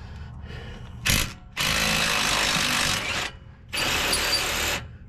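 Power tool bursts loosening a wing nut on the track bar of a 2020 Jeep Gladiator, using an offset wobbler extension: three loud, close buzzing runs, one short and two long, with brief pauses between and no talk.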